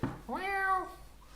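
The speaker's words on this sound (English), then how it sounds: "I'm trying to lure my cat onto my lap." A pet cat at home lets out a single close, clear meow that rises and then falls, with a quiet room around it.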